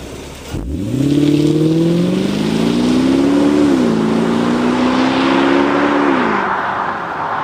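A 300-horsepower 4.3-litre V8 car engine in a video game revs up sharply and holds a loud, throaty drone with a brief pitch dip midway, growling at high revs.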